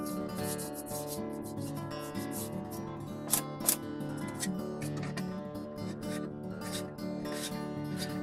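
Molding flash being sanded off small HO scale plastic model parts, a close, steady scratchy rubbing that continues throughout with a couple of sharper scrapes midway and no talk.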